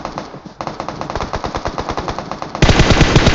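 Rapid bursts of automatic gunfire in the mobile battle-royale game PUBG Mobile, loud and close, firing in steady repeated volleys and growing denser and louder toward the end.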